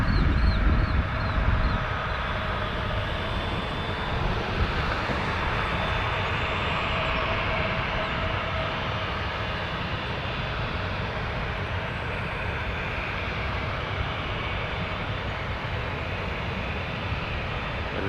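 A Bombardier Challenger business jet at Toronto Pearson airport gives a steady, moderately distant turbine roar with a faint high whine, continuous for the whole stretch with no talk.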